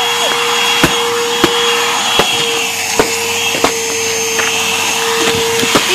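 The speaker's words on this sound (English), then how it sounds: "It's still sucking it up." A vacuum cleaner sucks up snow outdoors, holding a loud, steady droning whine throughout, broken by regular sharp clicks and knocks roughly every half second to second as clumps hit the nozzle.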